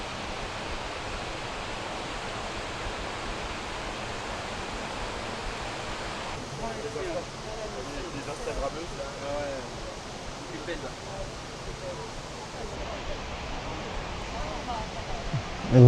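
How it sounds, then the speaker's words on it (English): Broadband rushing roar of the Ouzoud waterfalls in Morocco, a steady continuous wash of falling water heard from nearby, with faint voices mixed in. "And there you have it, the Uzut waterfalls."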